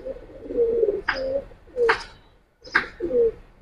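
Caged pigeons in a loft coo close by in three short, throaty phrases, with a faint chirp between them.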